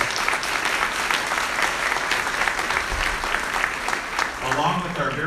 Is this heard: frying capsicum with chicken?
no